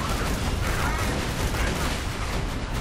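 Sustained gunfire in Borderlands 2 co-op combat, a thick, nearly unbroken barrage of loud shots and blasts that fills the whole moment without pause.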